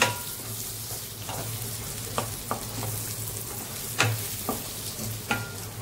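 Green chilli fry being stirred in a hot pan, soft continuous sizzling with occasional spoon taps and scrapes against the pan, close and low in level, no talking.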